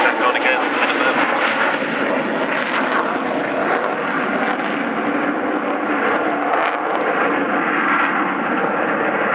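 The jet engines of the Avro Vulcan XH558 bomber at the RIAT air show produce a loud, sustained, broad roar across the whole stretch, with a commentator's voice running over the engine noise.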